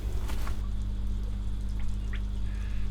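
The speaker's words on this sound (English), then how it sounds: "the air gets blown to the bottom of this tank, and it comes out in little bubbles" Air blown to the bottom of a homemade aerated waste water treatment tank rises in little bubbles, giving a steady watery gurgling and splashing over a constant low pump hum, close and continuous.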